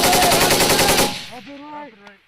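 A US Army M240 or M249 machine gun fires a loud, rapid sustained burst outdoors that stops abruptly, leaving a rolling echo and a faint voice after.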